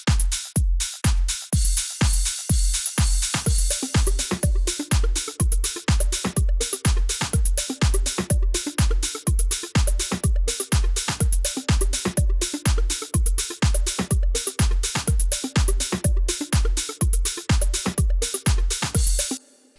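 Deep house track built in Ableton, a steady four-on-the-floor kick with snare layered in and a repeating synth arpeggio joining midway, looping evenly for about twenty seconds before stopping; no voices.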